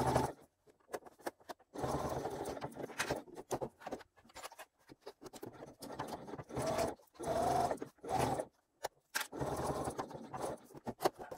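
Sewing machine basting stitches on a crossbody bag, running in short intermittent bursts separated by pauses, with quiet handling sounds between runs.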